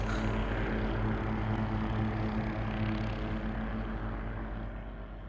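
A propeller aircraft in the Sudden Strike game rumbles steadily with a deep droning engine while it taxis on an airfield before takeoff. The sound is loud and continuous, then eases slightly toward the end.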